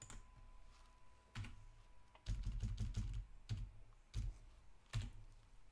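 Computer keyboard keys clatter in a few short bursts separated by pauses, close but fairly quiet, with no talking over them.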